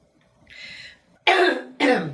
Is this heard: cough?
yes